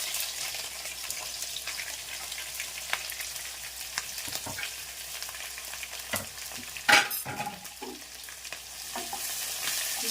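Onions and green chilies frying with curry leaves in hot oil, a steady close sizzle with occasional stirring scrapes and one louder clatter near the middle.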